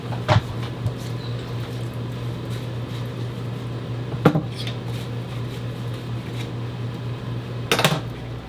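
Dishes washed in an RV kitchen: a few sharp clinks and clatters of dishware over a steady low hum, spaced several seconds apart, close by and without talk.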